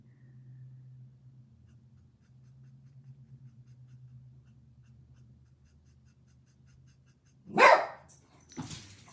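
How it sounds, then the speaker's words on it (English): Dog letting out a sudden loud bark and then a shorter second bark at a car driving slowly past, after a stretch of low steady rumble. "Somebody drives by slowly and he has to bark at them."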